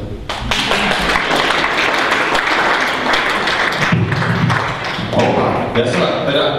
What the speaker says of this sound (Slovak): Mám tu napísané, že možno potlesk.